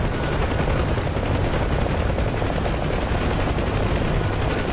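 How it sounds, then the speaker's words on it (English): Dense, continuous rattle of gunfire aimed at the player's aircraft in the DCS combat flight simulator, loud and unbroken over a rotor-like roar. "Hey, stop shooting at me."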